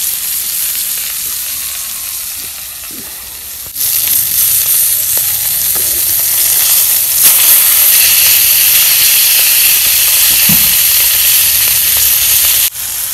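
Fish frying hard in a pan of oil, a steady bright sizzle and hiss that swells after a few seconds and holds loud and close, with a few faint scrapes underneath and no talking.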